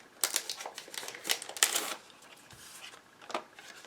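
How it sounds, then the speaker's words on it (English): A die-cutting machine presses paper for holiday cards, giving a close, quiet run of mechanical clacks and rasping bursts that fade toward the end. "we're going to die cut"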